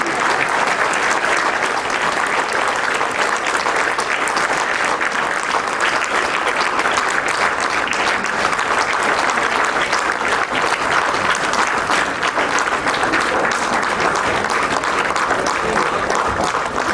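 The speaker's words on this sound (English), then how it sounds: "She deserves a bigger round of applause to be with him this many years." Sustained, dense applause from a large audience fills the hall at an Ellis Island Medal of Honor award ceremony, steady and loud throughout with no break.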